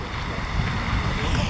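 Riverside Geyser erupting outdoors in gusty wind, a steady broadband rushing roar of water and spray with wind buffeting the microphone, continuous and fairly loud throughout the short stretch.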